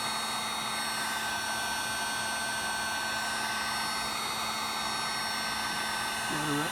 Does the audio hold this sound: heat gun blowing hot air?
yes